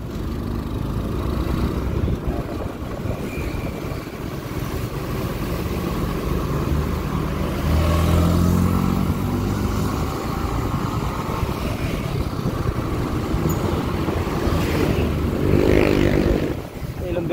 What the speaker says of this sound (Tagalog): Kakarehistro ko lang na itong motor ko.